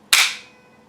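A single sharp metallic snap as the hammer of a GSG MP-40 9mm/.22lr falls after a short trigger pull, close and loud, decaying quickly into quiet, with nothing else around it.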